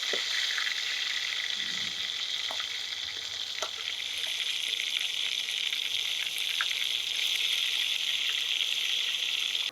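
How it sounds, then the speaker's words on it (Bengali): Pangas fish fillets sizzle in hot oil in a pan, a steady bright crackle with occasional small pops, close and continuous throughout. "এবার আর এক পাশ উল্টে দিলে মাছটা সুন্দরভাবে ভাজা হয়ে যাবে।"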